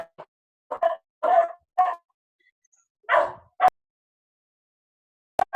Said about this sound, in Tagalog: yung aso namin sumasabay. Gusto niya rin mag-work from home.